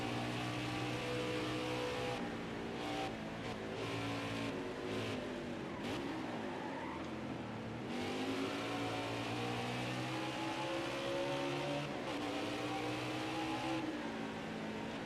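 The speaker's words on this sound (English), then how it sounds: "Schneider overshoots the corner trying to get back to Busch, and Busch double crosses him over now for 11th" Race car engines roar steadily in NASCAR Heat 5 during a Toyota Save/Mart 350 race, a dense, continuous high-revving whine with pitch shifts as cars accelerate and brake, loud and unbroken throughout with no talk.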